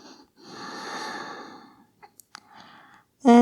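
Slow, deep breaths during a yoga session, soft airy exhales and inhales drawn out over a couple of seconds each, close and quiet, followed by a few small clicks and a sudden louder burst at the end.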